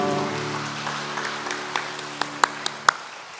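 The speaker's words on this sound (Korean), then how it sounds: "박수로 환영해 주시기 바랍니다." A church congregation at Sunday worship welcomes someone as sustained organ-like music fades out, giving way to a few scattered, sharp handclaps near the end.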